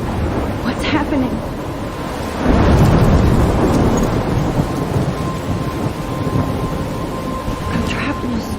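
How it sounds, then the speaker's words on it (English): Thunderstorm in the video game Life is Strange, with steady heavy rain and a loud rolling thunderclap that swells a few seconds in and rumbles on beneath the downpour. "I'm trapped in a storm?"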